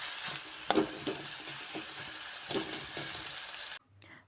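Chopped vegetables with tomato and a pinch of salt frying in a pan for chow mein, a continuous close sizzle broken by a few stirring scrapes and knocks, cutting off abruptly near the end.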